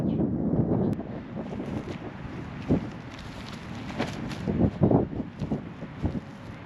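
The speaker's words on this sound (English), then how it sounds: "the wind is pretty strong" Strong wind gusts buffet the microphone outdoors during disc throwing, a steady low roar that swells in bursts, with no talking.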